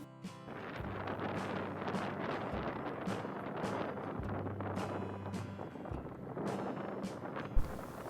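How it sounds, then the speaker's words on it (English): Strong, cold wind in Ukraine roars and buffets the microphone in a steady, loud rush that lasts throughout, with a low rumble underneath and no voices. "it's also gotten colder today and very windy, so here's a listen."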